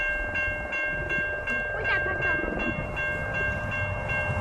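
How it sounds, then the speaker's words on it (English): A train rolls past during railfanning in November, a steady rumble with rail clatter and a sustained high tonal ring running throughout, close and loud. "Here comes the train."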